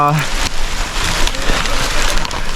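Heavy rain pours down in a dense, loud hiss with scattered sharper drops and knocks, steady from start to finish, on a trekking trail to Bandaje waterfall.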